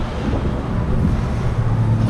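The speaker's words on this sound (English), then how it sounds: "she said it's windy out here." Strong wind buffets the microphone outdoors beside a truck on the road, a loud continuous rumbling roar with no voices.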